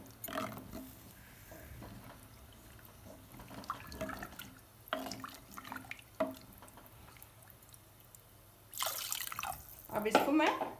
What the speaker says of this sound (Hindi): तो अपन इसमें दाल ज़्यादा पानी डालेंगे